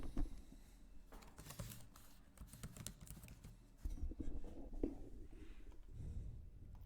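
Typing on a computer keyboard, a quick run of soft, close key clicks with a busy patter early on that eases off toward the end.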